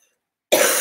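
A single sudden cough from an adult nearby, loud and breathy, bursting in after half a second of silence.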